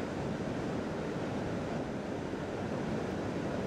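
The river Steyr pours over two artificial cascades near the entrance to the old town, a steady, dense roar of rushing water that fills the whole stretch without any break or voice.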